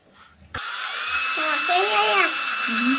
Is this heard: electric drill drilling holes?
yes